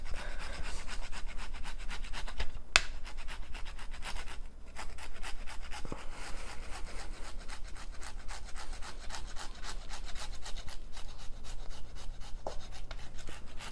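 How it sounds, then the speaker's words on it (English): Parmesan cheese is grated in steady, rapid rasping strokes, a soft continuous scraping close by with a few faint clicks, and no voices. "And my Parmesan cheese. Grate that in."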